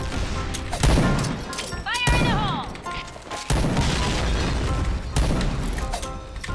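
Gunfire from the video game Point Blank comes as repeated sharp, loud shots and bursts across the clip, with a voice talking over the action.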